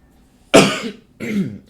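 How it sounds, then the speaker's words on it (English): Two close, loud coughs from a single person indoors during a math tutoring session, a sharp burst followed by a second, rougher cough about half a second later. "I'm sorry, I'm coughing all over the place today."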